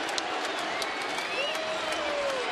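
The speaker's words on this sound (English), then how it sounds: "Met fans booing, Philly fans chooching" Dense roar of a baseball crowd at a Mets home game against the Phillies after a two-run homer, Mets fans booing and Phillies fans cheering, steady and broad with a whistle rising over the noise.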